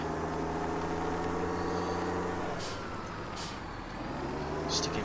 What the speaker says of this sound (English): let's take our tractor back